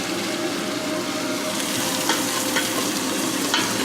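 Sweet white wine poured into a pan of spaghetti sauce, giving a steady, close sizzle and bubbling with a few faint clicks from the pan.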